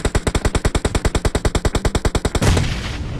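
Rapid automatic gunfire in a battle royale video game, a steady burst of about twenty evenly spaced shots, loud and close, ending in a short fading echo with no talk.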